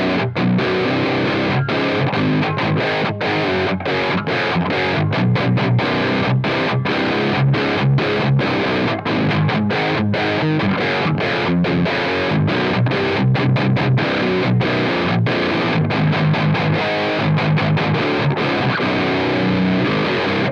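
An electric guitar plays through the modern channel of a Mesa Boogie Triple Rectifier amp model in AmpliTube 5, with heavily distorted, dense riffing and sharp palm-muted chugs that continue for about twenty seconds, with no voices.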